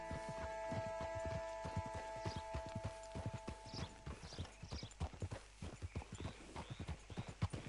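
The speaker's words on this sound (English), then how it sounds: "The horse won't go any faster." Horse walking at an unhurried gait in the video game Red Dead Redemption 2, with a steady run of close, distinct hoof clip-clops in an irregular rhythm over a quiet ambient bed, growing more pronounced later.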